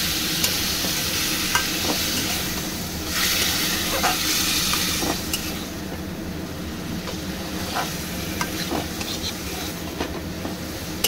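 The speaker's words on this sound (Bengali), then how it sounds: "খুব ভালো করে আমি মশলাটা আলুটা একসঙ্গে কষাচ্ছি, তবে একটু জল দিয়ে দেবো," Spices and potato chunks stir-fried in oil for a Bengali pekal fish curry, with water added, give a steady loud sizzle under scraping stirs and occasional clinks of the spoon against the pan.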